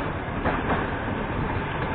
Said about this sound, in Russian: Вот это поезд.